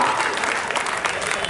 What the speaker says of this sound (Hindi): ताली बजाया वो